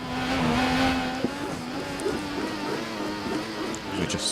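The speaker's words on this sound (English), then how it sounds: "you can probably hear my wheel at work with force feedback" A force feedback steering wheel for sim racing works steadily during a Belgian GP race, its motor whirring and buzzing beneath the constant drone of the game's car engine, with small clunks as the wheel is weaved back and forth.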